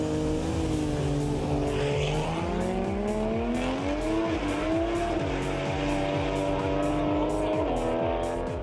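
Race cars with engines over 4.4 litres, competing in a third-class event, roar past with a loud engine howl that climbs through the gears, accompanied by sharp tyre squeals and a constant close, dense racket.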